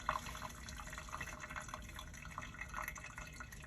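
Whey drains from fresh homemade paneer in a round strainer, a faint continuous trickle with light drips, quiet and close in a kitchen.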